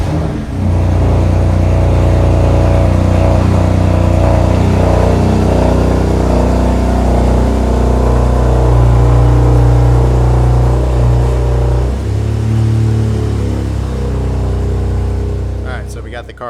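BMW F80 M3 pulling out of a garage into a driveway, its engine droning loud and close with a steady low rumble that shifts pitch as it moves, then settles briefly before fading slightly at the end.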